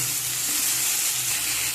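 Cut radish and eggplant hit hot oil seasoned with a dried red chili and panch phoron for a sour tamarind dish, setting off a loud, steady, close sizzle and hiss with no voices.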